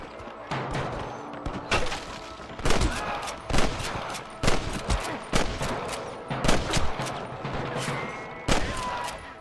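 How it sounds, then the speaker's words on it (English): Gunfire in the video game Red Dead Redemption, a rapid series of sharp, loud shots in irregular bursts, some overlapping, under light background talk. "I can hear more gunshots."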